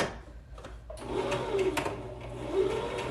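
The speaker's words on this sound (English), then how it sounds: "I'm going to sew down the center back seam." A domestic sewing machine runs steadily, stitching the center back seam of a cotton knit tee, its motor hum close and continuous for a few seconds with a brief pause near the start.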